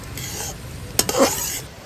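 Rice tossed in a little water is fried in a pan for Kanika bhog, giving a close sizzle under a couple of quick scraping stirs and a brief clatter, with no talking.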